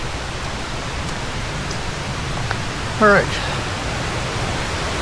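A rain-swollen stream or waterfall in a small rainforest rushes as a steady, loud broadband roar, with someone speaking briefly over it.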